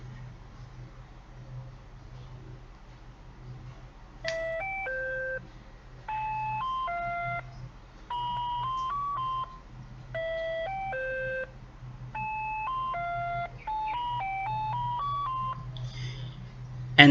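An ice cream truck plays its music jingle in the afternoon, a bright, chiming tune of short plinking notes in repeated phrases, with steady low street or engine rumble beneath it throughout.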